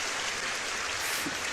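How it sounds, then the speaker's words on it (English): Steady applause and cheering from a crowd, a dense, even wash of clapping heard on its own as a short sound effect, with no talking over it. "I'm gonna give myself a round of applause because I'm like super excited for it"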